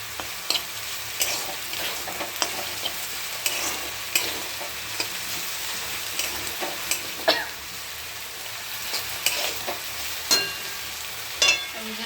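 Vegetables sautéing in a pan, a steady sizzle of frying punctuated by repeated clinks and scrapes of a spatula stirring, close and clear.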